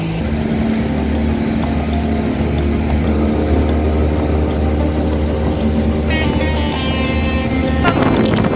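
A motorboat engine drones steadily on a lake, a close, constant hum with a low throb, briefly joined by a rising whine near the end; faint voices may sit beneath it.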